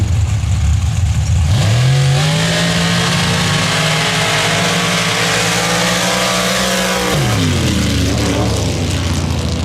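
Dirt drag racing vehicles in an elimination round launch and accelerate hard side by side, a loud roaring engine rising in pitch over several seconds before dropping off, with no talk.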